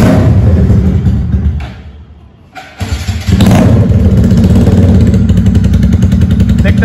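A General Kai 4V motorbike, recently in an accident, cranks and fires up after a brief quiet gap, then settles into a loud, steady, close-up running note.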